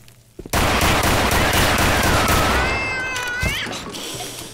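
A cat yowls loudly in the video game STALKER: Shadow of Chernobyl, its wavering, rising cries cutting through a dense, continuous roar of what sounds like gunfire for several seconds before fading.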